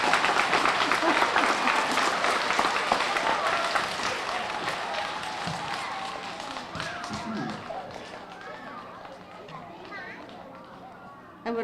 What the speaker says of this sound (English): Give them another hand.